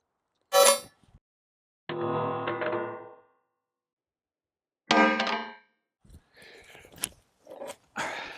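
A Trijicon RCR enclosed red dot optic dropped repeatedly in a drop test, giving a string of sharp metallic clangs and bangs with ringing tails, separated by short silences, close and loud.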